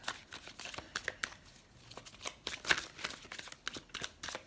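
Tarot cards being shuffled by hand before a reading, a fast riffling and slapping patter with soft crisp bursts that comes and goes in quick uneven waves, close up and quiet, with no talking.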